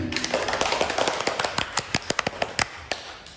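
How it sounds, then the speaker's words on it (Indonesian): A small audience at a seminar applauds after a presentation, dense clapping at first that thins into scattered individual claps before fading out. "Aplaus dulu nih."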